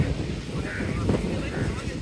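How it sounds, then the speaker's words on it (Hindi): Strong wind buffets the microphone in a steady, rumbling roar that never lets up, at a railway site in Jungshahi, Pakistan. "वाकई हवा बड़ी तेज है"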